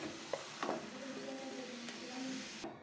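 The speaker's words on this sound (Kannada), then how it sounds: "ಇವಾಗ ಇದಕ್ಕೆ ಈ ಫ್ರೈ ಮಾಡಿ ಇಟ್ಕೊಂಡಿರುವಂತಹ ಹೂಕೋಸು ಮತ್ತು ಆಲೂಗಡ್ಡೆಯನ್ನು ಮಿಕ್ಸ್ ಮಾಡ್ತಾ ಇದ್ದೀನಿ." Fried cauliflower and potato stirred in a pan for a gobi aloo curry: soft scraping strokes of a spoon against the pan, with a faint sizzle underneath and a few light clinks, fairly quiet and close.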